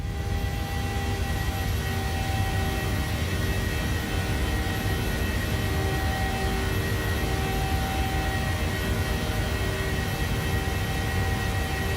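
An airliner's jet engines drone steadily in Microsoft Flight Simulator 2020 during the climb out of Los Angeles, a loud, even, continuous roar with faint tonal whine and no talking.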